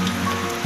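Light drizzle falls outdoors in a cool, misty mountain province area, making a brief, steady soft patter and hiss at a moderate level.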